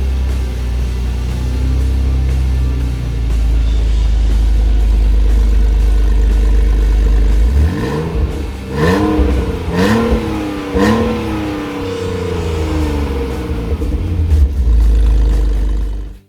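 A drift car's engine idles low, then catches and revs hard in several sharp rising-and-falling bursts, loud and close, before settling back to a steady rumbling idle.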